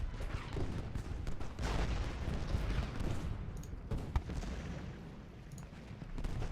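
Sustained rolling cannon and musket fire from a Civil War battle in the strategy game Ultimate General: Gettysburg, a dense, continuous rumble of overlapping distant booms with a few sharper reports standing out.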